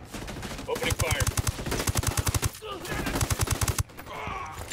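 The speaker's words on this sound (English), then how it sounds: "Opening fire." Video game gunfire rattles in rapid automatic bursts, four or five long volleys of evenly spaced shots, loud and close, separated by short pauses.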